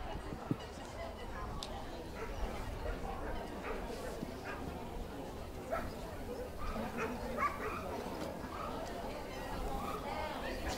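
A smooth coat Chihuahua yips and barks in short, faint bursts at a championship dog show, set against a busy indoor crowd murmur and voices.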